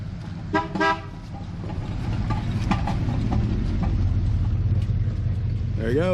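Car rolling in toward a sold 1966 Plymouth Fury, a steady low engine rumble building closer, with two short horn toots near the start and a voice briefly at the end.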